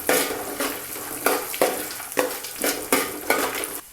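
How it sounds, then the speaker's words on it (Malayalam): Cashews, peanuts and raisins fry in oil in a pan, stirred with a spoon in regular sweeps, each stroke bringing a swell of sizzling and scraping, close up with no speech. "നമ്മുടെ അണ്ടിപ്പരിപ്പും കപ്പലണ്ടി എല്ലാം ഒന്ന് ബ്രൗൺ കളറായി വരുന്നുണ്ട്."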